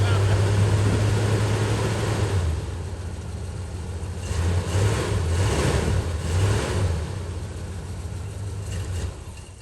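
A 1975 Chevrolet C20 truck engine runs steadily, rising and falling as it is revved, loud and close throughout.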